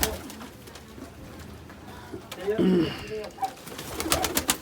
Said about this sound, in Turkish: Arkadaşlar ne güzel kuşlar var burada.